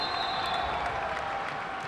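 A basketball crowd cheers and applauds for Fenwick in a gym. The dense, steady clapping and roar hold at an even level from start to finish.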